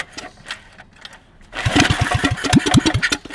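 A Subaru small engine on a budget go kart is pull-started with choke on: quiet rattling, then one pull brings it roaring to life with rapid, uneven firing pulses, close and loud.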